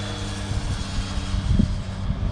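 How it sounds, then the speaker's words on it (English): A low-flying airplane passes overhead outdoors, its engine a loud, steady low rumble and drone that fills the whole moment. "Ah, a plane. Oh, that. It's very low."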